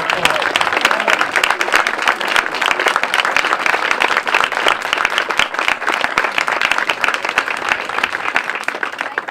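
Sustained applause from the crowd at a high school groundbreaking ceremony, honoring the former principals of Blacksburg High School; dense, even clapping that holds steady for about nine seconds with no break.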